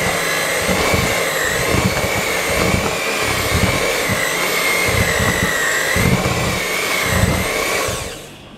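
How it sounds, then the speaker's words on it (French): An electric mixer churns thick homemade cookie dough in a steady, loud motorized whir with slight rising and falling strain, running alone before cutting off at the end. "Là j'ai fini de mixer ma pâte."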